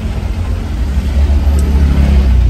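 Car traffic crawling in a Saturday jam in Shillong, a continuous close low engine drone and idling rumble from surrounding vehicles, with no voices.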